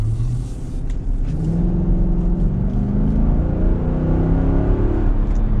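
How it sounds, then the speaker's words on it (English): A 2011 Infiniti QX56 drives with a steady, loud engine rumble and tire whir heard from inside the cabin, the pitch rising gently as it accelerates. "Here you can hear this beautiful tune"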